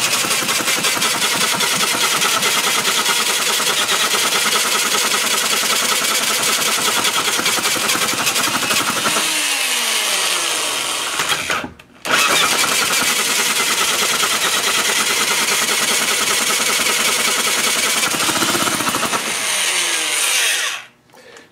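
A Mini Hog 69 mini bike engine runs loud and close with a harsh, rapid buzzing rattle, cutting out briefly in the middle before firing back up and running on, then dying near the end.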